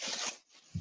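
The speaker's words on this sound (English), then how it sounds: "Who's rustling? It's a horrible noise." Brief rustling of fabric or a bag, loud and scratchy for a fraction of a second, a short lull, then a lower soft rustle at the end, with no talking.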